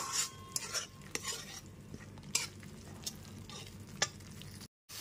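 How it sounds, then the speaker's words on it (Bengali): Spice masala fries in oil over a medium gas flame for an egg omelette curry. Close crackling and sizzling runs throughout, punctuated by sharp clinks and scrapes of a spoon against the pan, with no talking and a short silent gap near the end. "গ্যাসের ফ্লেমটা মিডিয়ামে রেখে যতক্ষণ না পর্যন্ত তেল রিলিজ হচ্ছে ততক্ষণ পর্যন্ত মশলাটাকে খুব ভালো মতো কষিয়ে নিতে হবে।"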